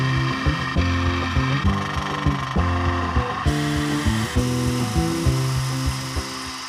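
A power tool whirs in steady, repeated bursts while working on an engine part for a Mk1 Ford Escort, loud and close, with short pauses between passes and no talking.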